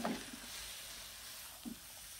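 Loti (taro stolons) frying in a pan for a bhuna with dried fish make a faint, even sizzle, with a couple of soft utensil knocks at the start and near the end.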